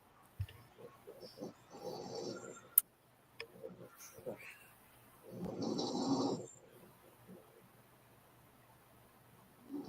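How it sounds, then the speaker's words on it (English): A person asleep at home during a quiet evening of crochet snores, with two or three soft, drawn-out breathy rasps separated by stretches of near silence and faint room noise. "You're snoring."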